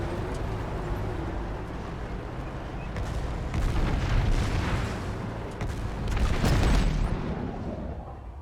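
Chimera tank cannon fire in the sci-fi shooter Planetside 2, with heavy booming blasts and rumbling explosions over constant battle noise; two louder bursts stand out in the middle and near the end.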